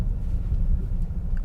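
A 2022 Kia Stinger GT-Line with its base engine accelerating in second gear, giving a low, steady engine rumble from inside the car, brief and moderately loud.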